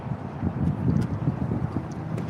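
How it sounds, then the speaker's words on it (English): Gusty wind buffets the microphone with a low, uneven rumble, broken by a few faint clicks. "It's hella windy outside right now."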